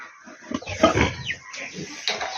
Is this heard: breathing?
no